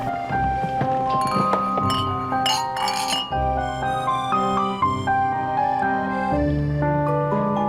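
Glasses clinking together in a toast, a series of bright, ringing chimes that strike several times in quick succession and linger with long resonant tones, close and clear with no speech.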